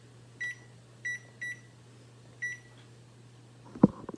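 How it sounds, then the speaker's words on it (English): A kitchen timer gives four short, clear electronic beeps at uneven intervals as it is set for 30 minutes, over a low hum, and ends with a soft clunk. "I'm gonna set my timer for 30 minutes."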